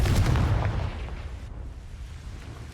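Confringo blasting spell going off in Hogwarts Legacy, a deep rumbling explosion that booms loudly up front and then rolls away into a fading roar.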